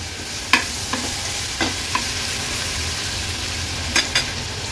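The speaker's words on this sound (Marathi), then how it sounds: "वाटण तेलावर थोडंसं परतून घ्यायचे।" Close, steady sizzle of ground spice paste sautéing in hot oil, punctuated by a few sharp scraping stirs of a utensil against the pan.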